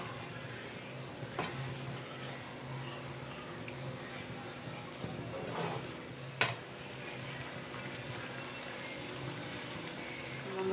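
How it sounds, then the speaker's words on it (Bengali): Spicy crab curry gravy simmering in a pan on the stove, a steady soft bubbling sizzle with a few faint clinks, quiet and continuous. "এটাকে 5 মিনিট ভালো করে ফুটিয়ে নিতে হবে।"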